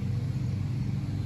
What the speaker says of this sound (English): What sucks is that's my lawnmower making that noise